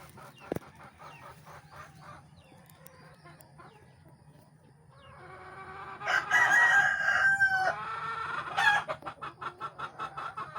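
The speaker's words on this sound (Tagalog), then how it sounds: "Paminawa ra gud ninyo ang tingog sa mga manok" Roosters crow loudly, one call after another, over a low steady hum, with some scattered clucking early on and more crows trailing off at the end.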